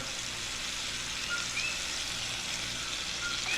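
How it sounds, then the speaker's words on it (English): Fish frying in a pan with real maple syrup added, a soft, steady close sizzle and hiss running evenly throughout without any talking. "Let that all cook together just until the fish is done cooking."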